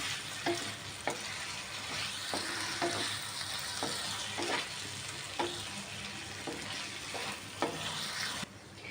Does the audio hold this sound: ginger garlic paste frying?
yes